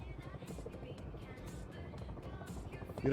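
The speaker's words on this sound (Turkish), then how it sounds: "Bizim helikopter gene parçalarıma ayrıldı daha." Rotor thrum of a helicopter in a video game, a steady churning drone running through the whole stretch, loud and close, with raised voices talking over it.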